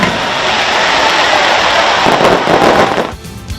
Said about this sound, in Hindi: ऑकलैंड में नए साल की पूर्व संध्या समारोह के दौरान स्काई टावर से आतिशबाजी भी की गयी।